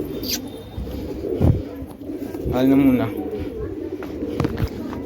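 A pigeon coos close by in a house, a few short throaty calls rising and falling, while someone talks intermittently over and around them.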